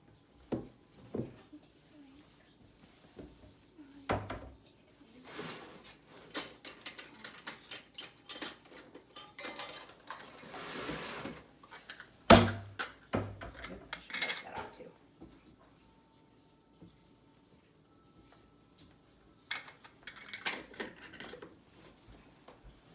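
Lids being put on containers of homemade yogurt, scattered close plastic clicks, taps and light rattles in bursts separated by quiet stretches, with occasional faint talk.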